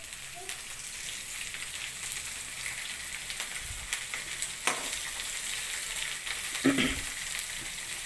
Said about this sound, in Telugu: క్యారెట్, బీన్స్, పచ్చిమిర్చి అన్నీ వేసి ఇలాగా ఫ్రై చేసుకోవాలి.